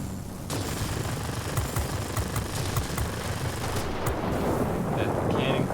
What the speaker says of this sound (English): Gonna fire my machine guns